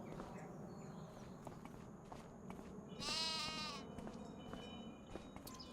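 A single sheep bleats clearly in the middle of the Farming Simulator 25 game, heard over a constant background of footsteps and ambient farm noise.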